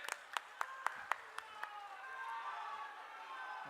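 Applause from the crowd at a large public rally in Gorakhpur, India, starts with several sharp separate claps and then swells into steady, moderately distant clapping, with no one speaking.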